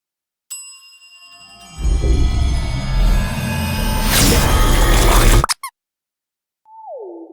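A front desk bell rings in the Celeste video game, a single bright ring in a hotel lobby, followed by a loud rising whoosh that cuts off and a short descending chime after a pause.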